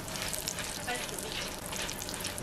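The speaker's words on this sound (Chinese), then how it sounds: "加入桂皮、八角、干辣椒、花椒，用小火慢炒。" Cinnamon bark, star anise, dried chilies and Sichuan peppercorns fry in a wok of oil over low heat, a steady close sizzle that runs the whole time without break, with no speech.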